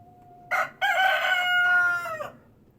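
A rooster crows in reply from higher up, one loud, close, drawn-out cock-a-doodle-doo in the early morning, rising after a short opening call and fading out, with no talk over it.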